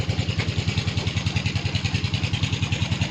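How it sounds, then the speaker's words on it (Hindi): Small 12-volt pump running off a car battery at an organic fertilizer plant, giving a steady, loud mechanical drone with a fast regular pulsing throb and no pauses or talking. "इसे भरने के लिए ये पंप लगाया 12 वोल्ट"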